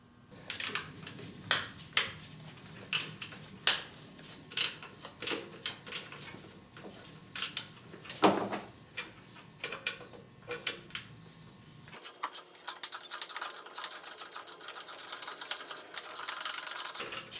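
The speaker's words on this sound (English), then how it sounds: "loosen this 10mm bolt to relieve the tension on the belt." A 10mm bolt on a Honda Accord belt tensioner is loosened with a ratchet, giving quick irregular clicks and metallic rattles up close, then a denser stretch of rapid ratcheting, with no talking.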